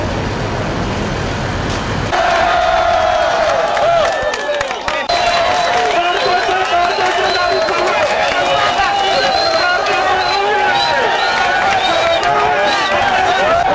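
A huge crowd gathered to welcome a young governor, a dense continuous roar of voices and cheering, loud and close throughout, with whistles and shouts rising above the din.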